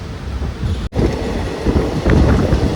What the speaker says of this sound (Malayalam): ഇപ്പം ഏതാണ്ടൊക്കെ ട്രെയിനൊന്ന് സ്പീഡ് എടുത്ത് തുടങ്ങി കേട്ടോ